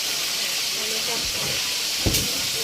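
Food frying in cooking oil makes a steady, broad sizzling hiss that runs throughout, fairly loud and constant, with faint voices and a couple of brief knocks in the background.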